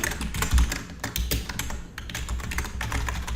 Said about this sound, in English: I really hate typing out pseudocode.